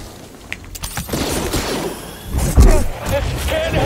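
A cannon fires in the video game Star Wars Jedi: Fallen Order. A deep, heavy booming blast with rattling bursts lands loudly among other game effects, while a player talks over it.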